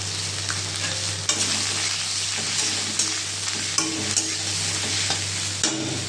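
Snake gourd with turmeric, dried chillies and five-spice fries in a hot wok, giving a steady close sizzle broken by repeated sharp scrapes and clacks of stirring, with no talk.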